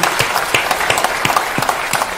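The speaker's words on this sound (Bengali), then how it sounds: "তাদেরকে আমরা একটা জোরে হাততালি দিই" Audience applause at an award ceremony for a television talent competition, a dense, loud burst of many hands clapping continuously throughout, with no speech over it.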